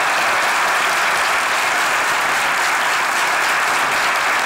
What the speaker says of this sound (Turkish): Alkışlayalım kendimizi ya